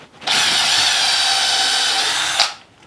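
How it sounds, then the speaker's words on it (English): Power drill driver cutting a pilot hole in wood while fitting a door hinge: a close, loud, continuous motor whine that rises abruptly, holds steady for a couple of seconds, then spins down and fades. "and drill my next one."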